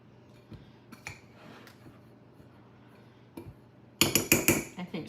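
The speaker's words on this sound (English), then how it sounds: "Cut that in with a fork until it's crumbly" A fork cutting streusel topping together in a bowl for blueberry sour cream muffins, heard as a faint scraping for most of the stretch and then a burst of sharp, close clinking scrapes near the end.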